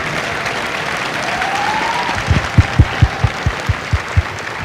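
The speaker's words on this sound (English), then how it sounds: "Ladies and gentlemen, a round of applause for our recruiters and our combat instructors." Audience applause at a Marine Corps recruit graduation at MCRD San Diego, a broad crowd clapping outdoors, with a slow run of heavy, evenly spaced thumps rising over the clapping in the second half.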